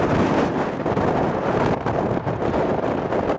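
Intense roadside wind buffeting a protected microphone along Route 66, a loud, continuous low roar that surges and gusts throughout, with no voices.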